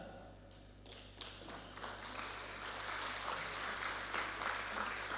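Audience clapping at a stakeholders' validation session on a draft national policy, starting sparse and quiet and building into fuller, steady applause over a low electrical hum.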